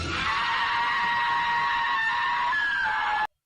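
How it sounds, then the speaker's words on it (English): A woman's sustained, piercing scream from a film scene, loud and unbroken for about three seconds before cutting off abruptly. "She's going to scream."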